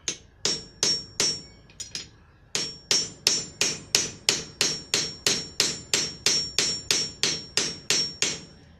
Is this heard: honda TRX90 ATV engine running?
no